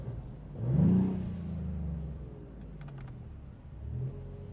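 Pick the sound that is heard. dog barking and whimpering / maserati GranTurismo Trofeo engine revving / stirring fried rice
maserati GranTurismo Trofeo engine revving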